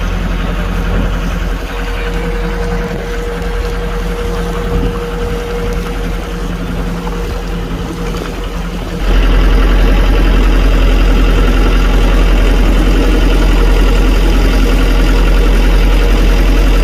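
Diesel engine of a river trawler carrying passengers toward Kuakata, a steady loud droning idle that jumps to a heavier, deeper roar partway through as the boat gets under way.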